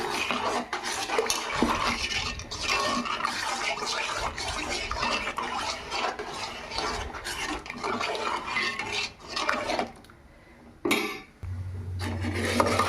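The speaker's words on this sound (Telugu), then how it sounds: "శుభ్రంగా పోసుకొని తిప్పుకుందాం" Ragi flour mixture being stirred in a cooking pot for Rayalaseema ragi mudda, a steady scraping and rubbing of a utensil against the pot, close and continuous, briefly pausing near the end before a low hum sets in.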